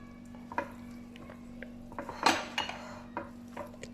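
A spoon stirs smoked chicken (dhuwan chicken) in a metal pot, giving a few quiet clinks and scrapes with one sharper knock midway, over a low steady kitchen hum.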